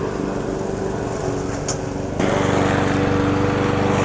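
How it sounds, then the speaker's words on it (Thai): Lawn mower engines drone steadily, with a second machine joining partway through and making the roar louder and fuller. "ใช้เครื่องตัดหญ้าหลายเครื่องมาก"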